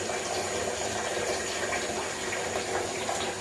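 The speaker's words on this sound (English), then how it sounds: "look at how long it's going to take to fill up this container" Low-flow Moen Genta bathroom faucet running into a container, a steady close hiss of flowing water with no talking.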